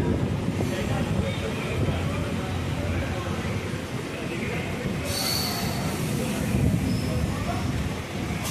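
A train under way, a continuous rumbling rail noise with wheel rumble throughout and a brief high metallic squeal partway through, steady and fairly close.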